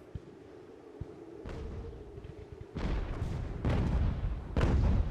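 Age-of-sail naval artillery fire in Ultimate Admiral: Age of Sail during a harbor raid, with several deep booming cannon shots rolling in at irregular intervals and growing louder, over a low ambient rumble.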